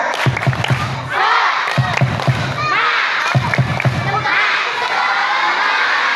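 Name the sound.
schoolchildren doing tepuk semangat clapping cheer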